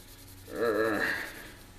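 Scuffing the edges of a Jeep headlight lens to prep it for paint, a single short close rubbing stroke that swells and fades within about a second, quiet and alone.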